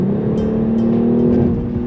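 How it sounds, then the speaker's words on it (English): Deep exhaust drone from a BMW X3 M Competition LCI with the exhaust flap open, a loud steady low rumble held close throughout, with no talk over it. "the deep note out of the exhaust is really good"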